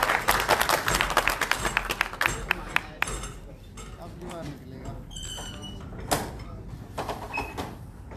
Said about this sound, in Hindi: तालियां बजाते बजाते जाइए भाई।